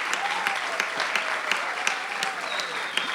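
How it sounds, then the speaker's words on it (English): Steady applause at an awards ceremony, a large audience clapping densely and evenly for a few seconds, with a faint tonal whistle or ring drifting over it. "let's give them a round of applause"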